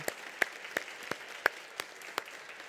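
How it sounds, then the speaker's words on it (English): A few people clapping at a community meeting on medical marijuana regulation, sparse individual claps spaced irregularly over a quiet room, faint and thin rather than a full crowd. "One more round of applause for them."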